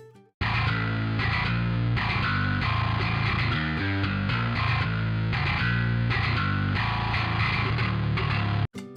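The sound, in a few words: crunch track of distorted metal bass guitar, high frequencies removed with EQ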